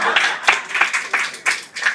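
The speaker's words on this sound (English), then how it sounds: "whole crowd was clapping" A lecture audience claps together in bursts of quick, uneven applause at a Sunday feast talk, moderately close and loud, with voices mixed in among the claps.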